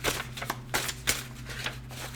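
A pile of quote cards being shuffled in repeated riffling bursts, soft and close, over a steady low hum, with no talk.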